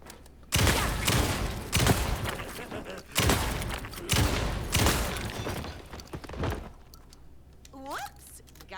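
Boomstick shotgun blasts in the video game Alan Wake 2, several loud booming shots roughly a second apart, each with a long noisy tail, ending with quieter clicking reload sounds.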